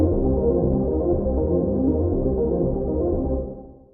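A filtered Kontakt synth arpeggio pulses steadily with a dark, muffled tone, its last note dropped an octave, then fades out smoothly near the end. No voices are heard.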